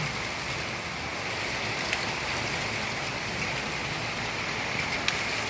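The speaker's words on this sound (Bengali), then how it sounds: "মিরপুরের এখানে বৃষ্টি শুরু হয়েছে এইমাত্র আপনারা দেখতে পাচ্ছেন প্রচুর পরিমাণ বাতাস এবং বৃষ্টি" Heavy rain and wind from a Kalbaishakhi storm in Mirpur make a steady, loud, broadband hiss with a few faint ticks.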